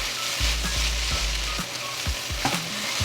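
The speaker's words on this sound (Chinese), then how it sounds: "開大火，一直不停的翻炒，翻炒到水汽沒有" Vegan fried rice stir-fried over high heat in a wok, with a loud continuous sizzle and a few thumps and scrapes as the spatula tosses the rice, close and without talk.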